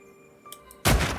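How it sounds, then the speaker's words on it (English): A single gunshot in The Red Lantern video game, a sharp loud blast that rings out alone after a brief quiet stretch. "That was a great shot."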